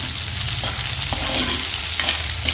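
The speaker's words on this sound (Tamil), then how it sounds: "சின்ன வெங்காயம், வெள்ளைப்பூண்டு, கருவேப்பிலை, மிளகாய் போட்டு கொஞ்சம் வதக்கினா போதும்" Shallots, garlic, curry leaves and chilli sauté in hot oil for an anchovy fish curry. A steady close sizzle runs underneath several scraping stirs of the spoon against the pan.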